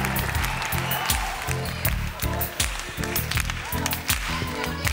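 A television variety show crowd applauds to welcome the performers Charlie and Lulu, with dense, sustained clapping and a steady rhythmic pulse running loud throughout.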